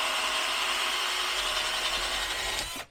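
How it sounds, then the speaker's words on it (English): A power drill bores out the rubber of a steering rack bushing on a Jaguar XJ or XJS, a loud steady high whine grinding through the material for nearly three seconds before cutting off abruptly. "start drilling out the rubber"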